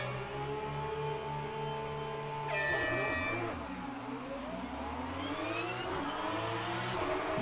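Racing car engine in the sim game rFactor 2, a steady loud drone with a shift in pitch around midway as the car accelerates, continuous throughout with no talk.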